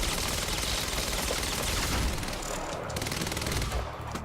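Sustained automatic gunfire in the shooter game Quantum Break, dense rapid shots forming a loud continuous roar that thins briefly near the end, with no talking over it.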